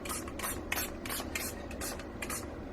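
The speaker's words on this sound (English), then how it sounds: "Give that a spray down." Repeated bursts from a spray bottle misting a freshly made bar of soap, about seven short hissing squirts in a steady rhythm, close and fairly loud with no talking.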